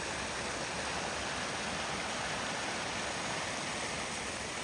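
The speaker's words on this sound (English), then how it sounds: "the thousands of gallons of water that's passing through this by the minute" Floodwater from Tropical Storm Debby rushes in West Virginia, Pennsylvania or New York, a steady, broad roar of thousands of gallons pouring through each minute, constant and close, with no voices.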